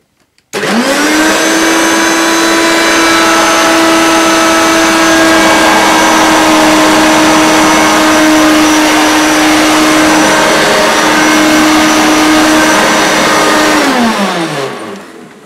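Hoover Turbomaster U5096 upright vacuum cleaner switching on, running with a loud steady whining hum for about fourteen seconds, then winding down as it shuts off.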